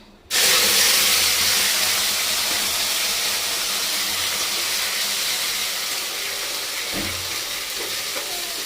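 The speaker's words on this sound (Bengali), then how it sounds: "এর মধ্যে এবার দেবো পেঁয়াজ বাটা।" Onion paste dropped into hot oil already fried with dried red chillies and whole white cumin, bursting into a loud, close, continuous sizzle that holds steady for several seconds and eases slightly toward the end, with no talk.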